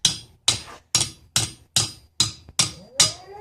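A hammer strikes hot metal on an anvil while a bird feeder hook is forged: eight sharp, ringing blows at an even pace about half a second apart, close and clear, with nothing else heard between the strikes.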